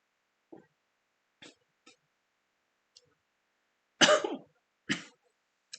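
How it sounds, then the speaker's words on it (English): A series of short, sharp hiccups spaced irregularly, followed by a louder cough burst and another hiccup, close and otherwise quiet. "Now I cough and hiccup at the same time."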